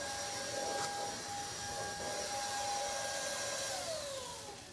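A Kenmore DS4020 cordless stick vacuum cleaner runs continuously indoors, a steady close whine with a high tonal hum that dips slightly in pitch near the end, no talking.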